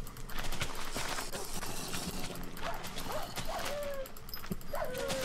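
In Minecraft, a dog whimpers and yips a few times amid busy mob arena game noise, with footsteps and clatter running throughout.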